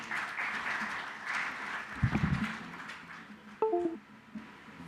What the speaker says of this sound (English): Please welcome our speakers with big round of applause.